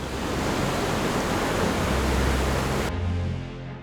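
A steady, dense roar of falling water from a waterfall in Oita, Japan fills the scene, loud and unbroken, then abruptly shifts to a duller rumble near the end.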